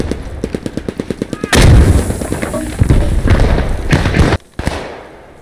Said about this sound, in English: Throw a grenade on it.